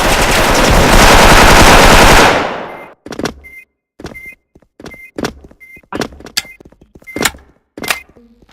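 A sustained roar of rapid automatic gunfire cuts off, followed by a series of sharp, separate bursts and shots with mechanical clicks between them.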